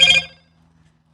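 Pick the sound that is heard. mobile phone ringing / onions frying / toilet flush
mobile phone ringing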